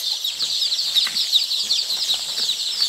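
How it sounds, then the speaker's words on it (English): Dense high-pitched peeping of many newly arrived foreign layer chicks on a poultry farm in Ghana, a continuous busy chorus with no talk. "You naughty, naughty chicks."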